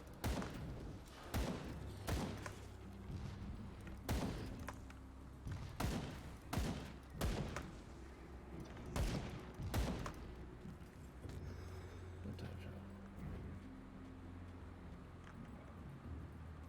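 Sharp gunshots ring out from the action RPG Grim Dawn, a dozen or so uneven cracks in scattered bursts over a steady low in-game ambience, loud and close, with quieter stretches between volleys.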